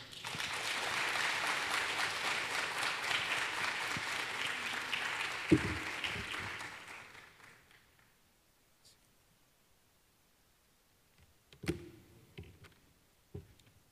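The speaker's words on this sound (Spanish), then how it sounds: "reiterarle los aplausos al doctor Juan Félix Rosario por su excelente participación" Audience applause at a dental aesthetics congress swells after a conference talk, holding steady for about six seconds before fading out. A few faint knocks and rustles follow in near silence.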